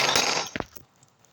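A plastic mineral water bottle knocked over during a meal, a brief clattering knock and tumble heard close by, followed by quiet.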